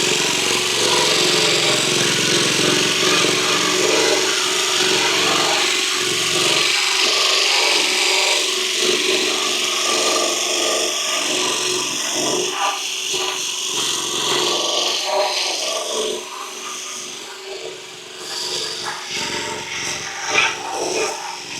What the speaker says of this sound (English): let's do the sanding.